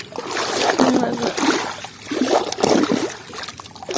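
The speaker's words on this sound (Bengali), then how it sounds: "এখন জল দিচ্ছি" Water is poured and splashes as it flushes dirt through a pipe on a rooftop after heavy rain, a steady close rushing and gurgling with uneven surges and no talking.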